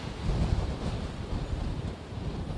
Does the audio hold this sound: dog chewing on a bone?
no